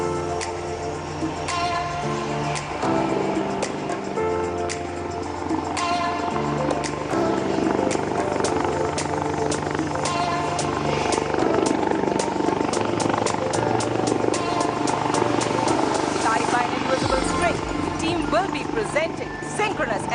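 Aircraft fly a synchronized aerobatic display at the Bengaluru air show. A continuous engine and rotor drone rumbles throughout, with loudspeaker commentary and music playing over it.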